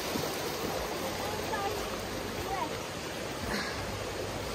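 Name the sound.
river flowing in Almaty nature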